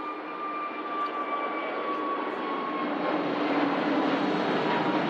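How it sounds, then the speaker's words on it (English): A Jet2 Airbus A321neo accelerates on its takeoff roll at snowy Manchester Airport, its engines giving a steady, distant roar with a faint whine that slowly builds. "So the Jet2 A321 Neo on the roll."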